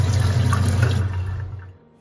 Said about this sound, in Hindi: थोड़ा सा पानी डाल देते हैं जैसे पानी डालो और इसको ड्रेन होने देना है